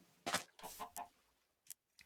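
Chickens being coaxed into a new coop give a few short clucks and squawks in brief bursts, close by, with gaps of quiet between them.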